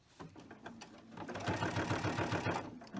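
Sewing machine stitching a shopping cart cover, its needle running in a steady rapid chatter that speeds up midway and holds a continuous mechanical rhythm, close and fairly loud with no talking.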